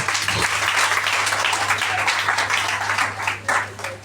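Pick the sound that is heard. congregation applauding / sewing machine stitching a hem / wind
congregation applauding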